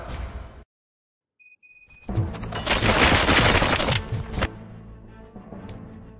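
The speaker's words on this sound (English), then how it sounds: "Gunshots? What's going on?" Rapid bursts of gunfire in the video game RoboCop: Rogue City crackle loudly in a dense, sustained volley after a brief silence and a few electronic tones, then fade into lingering echoes.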